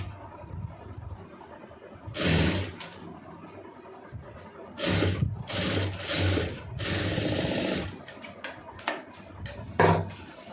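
A sewing machine stitching a folded fabric hem on an open top, running in short bursts of rapid mechanical chatter separated by pauses and clicks, close by, with no speech.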